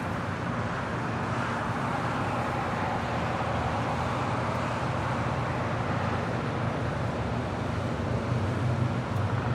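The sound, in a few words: road traffic on Imperial Highway near LAX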